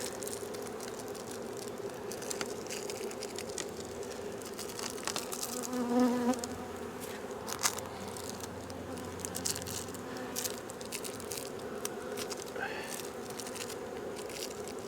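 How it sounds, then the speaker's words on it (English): Bees buzz around a hive, a steady, dense insect drone heard close and fairly faint, with occasional louder passes of individual bees and light handling noise. "I'm sure some of these bees are probably bees from other hives wanting to come rob"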